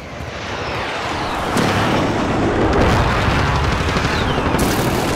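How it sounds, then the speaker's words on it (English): Precision airstrike blasts in Call of Duty roll as a dense, continuous wall of booming explosions and crackling fire that swells and stays loud for several seconds, with a sharp burst near the end. "Enemy precision airstrike!"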